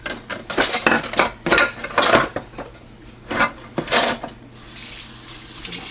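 Dishes and cutlery clattering at a kitchen sink under running tap water, repeated sharp clinks and knocks over a steady water rush, close and loud.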